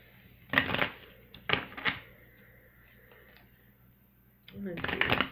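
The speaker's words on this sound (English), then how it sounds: "I'm going to pull another card that goes with that here." A chakra card is drawn from an oracle deck, with a few crisp papery shuffles and flicks of cards close by, separated by a quiet pause.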